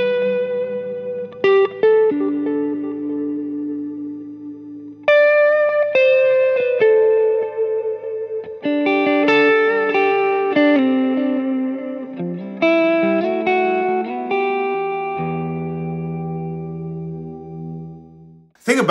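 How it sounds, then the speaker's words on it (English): Guitar notes and chords played through a Line 6 Helix PlexMan amp model ring out with a big dynamic hall reverb, each phrase decaying into a long wash of sustain, with no talking. "you want to go big hall reverb. Of course, the delicious dynamic hall."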